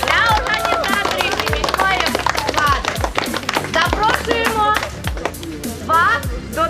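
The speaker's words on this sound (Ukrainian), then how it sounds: "оплески для команд і для ведучих" A crowd of participants at a historical quest event in Horokhiv claps for the teams and hosts, a dense, lively round of applause close by, with children's voices and chatter mixed in.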